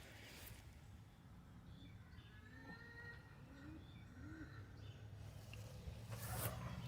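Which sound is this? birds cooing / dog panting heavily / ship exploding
birds cooing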